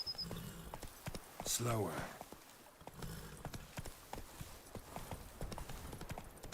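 Hooves of Roach, a horse in The Witcher 3, clop in a steady, close rhythm throughout, with a brief whinny-like snort near the start and a short spoken word over the footfalls.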